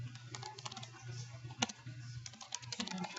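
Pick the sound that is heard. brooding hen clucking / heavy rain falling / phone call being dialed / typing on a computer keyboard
typing on a computer keyboard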